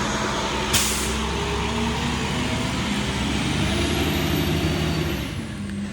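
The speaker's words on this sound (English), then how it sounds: "okay, the truck passed" A large truck rumbles past nearby, a loud steady roar with a sharp hiss of air brakes early on, fading slightly at the end.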